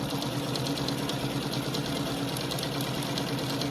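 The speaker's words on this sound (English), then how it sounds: "then I'm lining up the bottom, and then I start sewing" A sewing machine runs steadily, stitching log cabin quilt pieces together; its even motor hum and rapid needle chatter carry on without a break for the whole stretch, close by and fairly loud.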